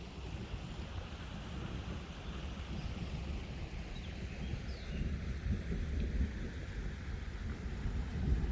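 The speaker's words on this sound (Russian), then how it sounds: "Гремит гром." Low, continuous thunder rumble rolls through a rural outdoor area near Tuapse during light drizzle, steady and broad with wind in the background and no talking.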